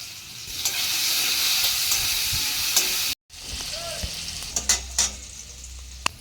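Potatoes frying with turmeric and salt in a pan, a steady close sizzle with occasional stirring clatter and a brief dropout midway.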